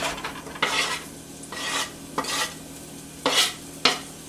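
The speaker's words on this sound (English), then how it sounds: "We have the shallots frying in the skillet." Shallots sizzling in oil in a hot skillet, with several bursts of louder frying and scraping as they are stirred, close by with no talking.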